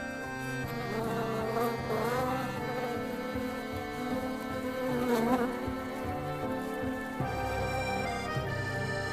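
Male wasps buzz steadily around an orchid that gives off a scent matching the female wasp's pheromones, several insects droning close by with rising and falling pitch over a continuous hum.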